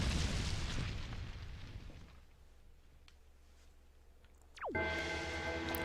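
A bomb explodes in Zelda: The Wind Waker HD with a loud booming blast that fades into a quiet rumble, followed by a sharp whoosh and a bright chiming game effect.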